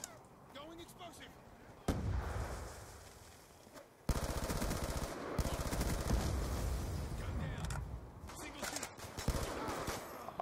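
Type 25 rifle fire in a video game: loud bursts of rapid shots, with a sudden heavy volley midway that keeps going to the end, mixed with other game noise and some talking.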